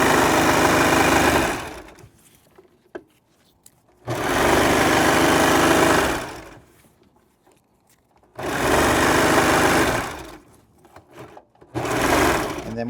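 A sewing machine stitches stretched elastic into a costume, running in three sustained loud bursts of rapid needle chatter separated by quiet pauses, with no talk.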